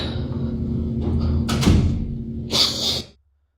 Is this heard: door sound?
yes